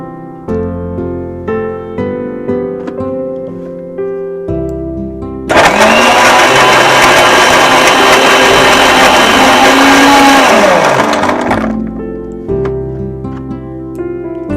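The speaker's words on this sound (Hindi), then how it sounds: "तो डाल देंगे हम चीकू और इसे दोबारा से कर लेंगे ब्लेंड।" An electric blender whirs loudly for about six seconds, blending a chikoo (sapota) milkshake with ice; it starts abruptly and winds down, with background music playing before and after.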